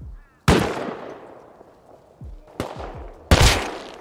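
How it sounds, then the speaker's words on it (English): Gunfire in the survival game Rust: three sharp, loud shots spaced out over a few seconds, each ringing and decaying, with faint voices low underneath. "I'm getting shot from behind"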